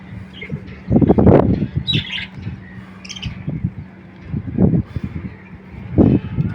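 Pet birds in a breeding room call in bursts of loud, rough squawks and chirps at close range, spaced irregularly with brief quieter gaps between.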